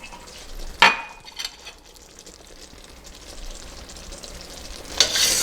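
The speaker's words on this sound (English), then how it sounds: "Give it a little stir." A spoon stirs a pot of candy mixture, with two sharp metallic clinks against the pot's side and soft scraping and bubbling in between.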